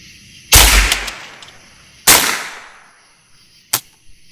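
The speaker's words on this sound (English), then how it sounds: "I think I can shoot a rat." Three sharp gunshots from a thermal-scoped rifle fired at rats, the first two loud with a long decaying tail and the third shorter, quieter crack, spaced about a second and a half apart with no voices.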